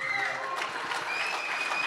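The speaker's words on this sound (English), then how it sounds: "So please give him a round of applause." Applause from a conference crowd at the ETHDenver event, a fairly soft, steady wash of clapping heard from a distance in a large hall, alongside faint background tones.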